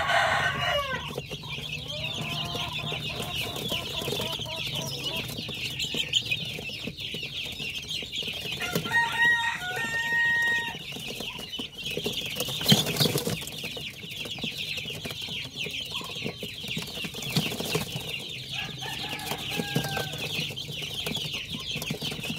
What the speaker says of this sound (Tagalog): yung dito sa may kabila natin mga sisiw, sigurado yan kasi maingay na sila